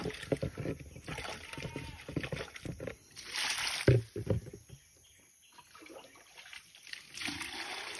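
Weak water flow trickles and splashes unevenly from a tap, with louder bursts early on, then thins to a faint dribble before picking up again near the end.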